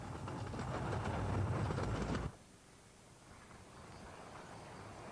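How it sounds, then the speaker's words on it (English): Diesel locomotive No. 12 John Southland arrives at Romney Sands on a miniature railway, a close rumbling roar of engine and wheels that cuts off abruptly partway through, leaving faint quiet ambience. "Romney Sands sees the arrival of number 12 John Southland, one of the railway's 2 diesel locomotives."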